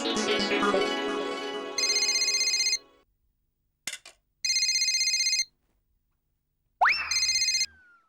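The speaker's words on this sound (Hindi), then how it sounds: "ये बबीता जी को फोन करके खुशखबरी दे देता हूँ कि पेमेंट मिल गया है।" A telephone rings in repeated electronic bursts, loud and close, with short silent gaps between rings and a brief clatter partway through.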